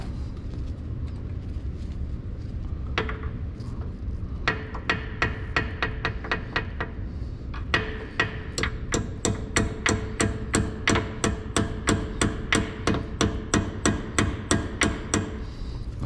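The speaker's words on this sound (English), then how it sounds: "Get a hammer and tap that thing in." A hammer taps a metal brake caliper pin on a Cadillac CTS-V repeatedly, starting with a few scattered strikes then settling into a steady, even rhythm of sharp, ringing hits, close by.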